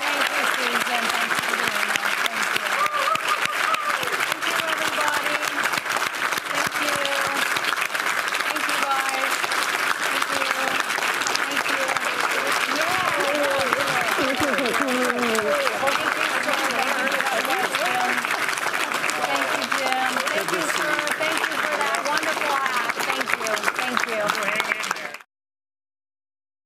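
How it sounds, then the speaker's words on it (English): Sustained audience applause after a Washington Senate candidate debate at a community college, a dense, steady clapping crowd lasting about 25 seconds, with voices chattering underneath before it stops abruptly. "let's give the candidates a round of applause"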